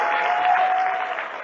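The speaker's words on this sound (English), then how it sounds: "How about a round of applause for him?" Audience applause at a talk on psychedelics fills a short burst of steady, dense clapping from many hands, close and even, tapering slightly toward the end.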